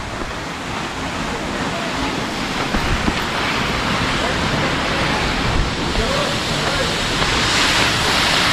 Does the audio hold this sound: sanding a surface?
no